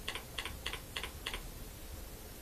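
Close computer keyboard typing of a purchase order number, about five quick, evenly spaced keystroke pairs in a short burst, then quiet background hiss.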